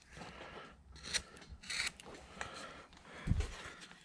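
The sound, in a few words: number 11 gouge shaping a wood carving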